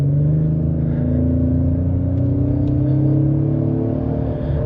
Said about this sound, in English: But let's go ahead and give it a gas here.